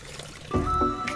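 Water gushes and trickles from a borewell outdoors, a steady liquid rush with a few splashy swells over a brief moment.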